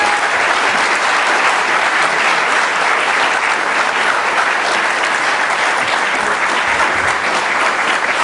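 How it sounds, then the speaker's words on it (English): Sustained, dense applause fills a room at a police department awards ceremony, clapping for three chiefs, loud and even throughout with no voices over it. "they deserve a round of applause for the hard work"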